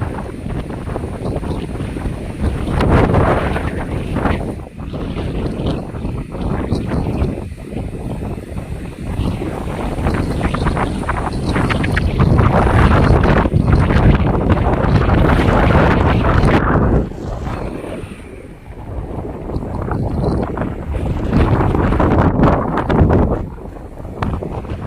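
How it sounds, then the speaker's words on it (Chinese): A howling gale in Kuala Lumpur roars loudly and continuously, with heavy wind buffeting the microphone in surging gusts that swell and ease over the whole stretch, no voices. "狂风怒吼，犹如世界末日。"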